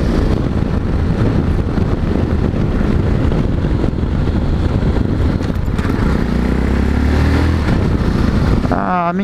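A Yamaha Tenere 660 motorcycle ridden through Campinas, its engine droning steadily under heavy wind rush and someone talking over it, with a brief rising rev near the end.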